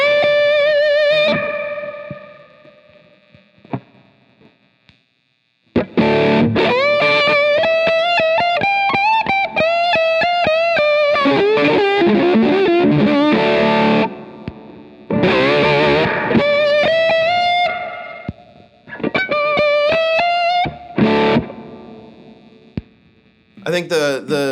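Lap steel guitar played through a DCC Darko's Custom Creations Plexi amp with reverb, loud distorted sliding notes and chords in phrases separated by brief pauses, with hum audible in the gaps.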